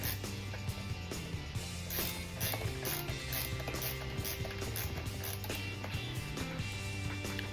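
Screws being tightened inside a Gonk droid model build, giving a rapid ratcheting click-click of a screwdriver in quick regular bursts, close and fairly quiet with no talk.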